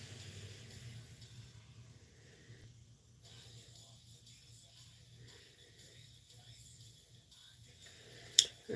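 A bathroom faucet trickles at a very low flow indoors, giving a faint, steady hiss throughout with a brief sharp click near the end.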